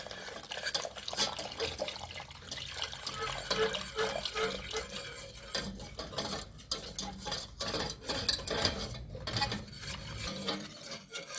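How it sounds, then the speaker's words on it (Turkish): Milk and sugar are stirred together in a pot before the stove is switched on, giving continuous close scraping and swirling with light metallic clinks against the pot throughout. "Ocağı açmadan iyice bir karıştırıyoruz."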